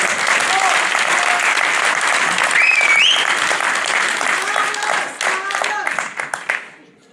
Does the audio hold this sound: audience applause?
yes